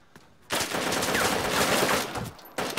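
Gunfire in the survival video game DayZ: a single loud, continuous burst of rapid shots lasts about two seconds after a quiet start, then cuts off before a brief fresh burst at the end.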